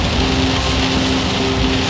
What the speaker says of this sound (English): As you can tell, it's raining very loudly.